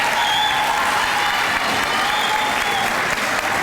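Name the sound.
audience applause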